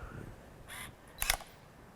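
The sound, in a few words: Canon Rebel camera autofocusing and flash popping open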